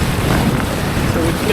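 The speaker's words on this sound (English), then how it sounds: "That's a good gust." A gust of wind roars across the microphone while windfoiling on open water, a loud continuous rushing buffet with no distinct breaks.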